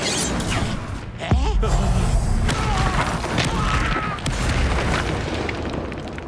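An Incendio fire spell bursting in Hogwarts Legacy, a deep booming blast that lands about a second in over a busy game soundscape of rumbling and crackle, with voices talking through it.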